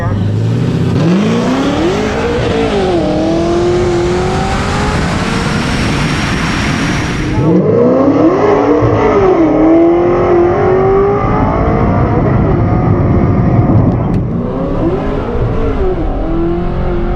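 Drag racing launch of a Chevrolet Corvette C6 against a Lotus Evora GT, with loud engines revving and climbing through gears in repeated rising sweeps, close and sustained, with a brief gap between shifts.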